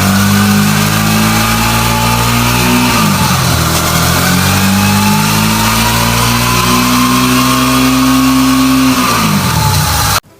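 A Suzuki DL650 motorcycle with a 645cc 90-degree water-cooled V-twin engine runs loud and close, holding a steady rev, dipping briefly, then climbing again before cutting off abruptly.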